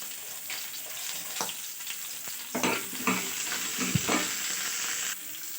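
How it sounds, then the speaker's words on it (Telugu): Onions frying in a pan for fish curry, stirred now and then, give a steady close sizzle broken by a few scraping stir strokes and soft clatters, with no voices. "మంచిగా ఫ్రై కావాలి"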